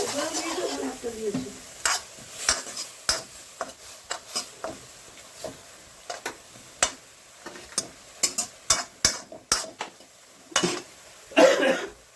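Vegetables for an oil-free sambar cooking in water in a pan, with soft sizzling and a run of sharp, repeated spatula scrapes and clacks. A cough or throat-clear is heard near the start.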